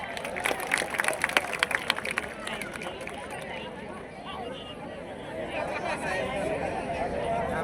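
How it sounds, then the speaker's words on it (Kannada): An audience at the Hampi Utsav festival applauds actress Ramya, a dense patter of crowd clapping and chatter that peaks early then settles into a steady background murmur. "ಅವ್ರಿಗೆ ಜೋರಾಗಿ ಒಂದು ಚಪ್ಪಾಳೆ"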